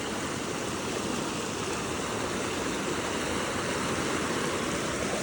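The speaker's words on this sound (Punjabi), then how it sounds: "ਇਹ ਪਾਣੀ ਚੱਲਦੇ ਨੂੰ ਵੀ ਬਈ ਬਹੁਤ ਦਿਨ ਹੋ ਗਿਆ" Sutlej floodwater pouring over a small village culvert makes a dense, steady rushing roar, loud and close, continuous with no voices.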